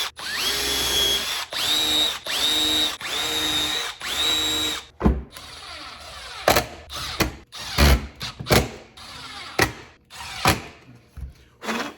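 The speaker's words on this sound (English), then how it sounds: "I'm gonna go back and I'm gonna pre-drill the holes again." A power drill whirs in several steady bursts while pre-drilling holes to mount a Milwaukee PACKOUT battery storage rig, followed by a string of sharp knocks and clatter from the tool and mounting hardware.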